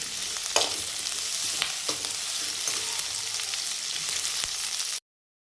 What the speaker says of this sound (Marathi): जोपर्यंत कांद्याचा कलर ब्राऊन होत नाही तोपर्यंत आपणाला कांदा फ्राय करून घ्यायचा आहे.